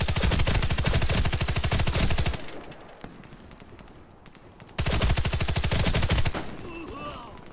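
Rapid automatic gunfire from a video game rattles loudly in two long bursts, with a quieter stretch of game noise between them.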